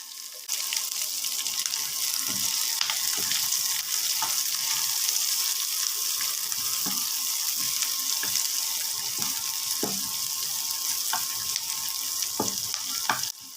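Chopped onions and six or seven green chilies fry in oil in a pan for a mustard river fish curry, with a loud, dense, continuous sizzle up close and occasional soft taps of a spatula.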